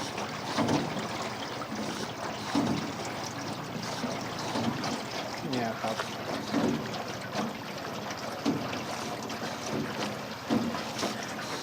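A rowing boat moving on the river at Tam Coc, rhythmic oar strokes pulling through the water every second or two with gentle splashing and trickling, close over steady outdoor ambience, no speech.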